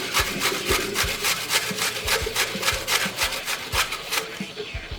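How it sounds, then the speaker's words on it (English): An apple being grated by hand over a grater, giving steady rhythmic rasping strokes, close and fairly loud, with no one talking. "So we're going to grate some apple in there."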